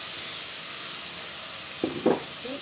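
Diced potato and pumpkin sizzle steadily in a pan over medium-high heat, a soft continuous frying hiss with a couple of brief stirring scrapes near the end.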